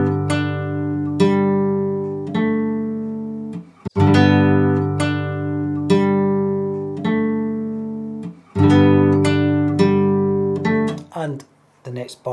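Fingerstyle acoustic guitar plays an easy Jingle Bells melody in G, with clear plucked single notes ringing over bass strings in a steady, moderate rhythm. The notes are close and fairly loud, with no talking.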